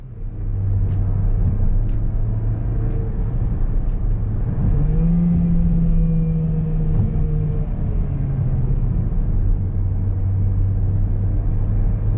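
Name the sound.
modern Mercedes engine revving in manual gearbox mode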